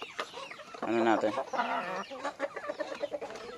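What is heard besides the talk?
backyard chickens and chicks clucking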